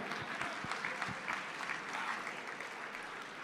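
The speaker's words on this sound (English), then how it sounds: "Round of applause for Renee." A live auction audience claps for a winning bidder named Renee, a dense round of many hands that starts with sharper close claps and settles into a steady, fairly even patter throughout.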